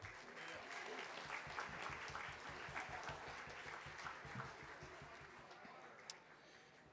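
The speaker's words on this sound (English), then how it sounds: "How about another round of applause for her?" A ceremony audience applauds a piccolo soloist from a military band, with dense, sustained clapping that gradually thins and fades over several seconds.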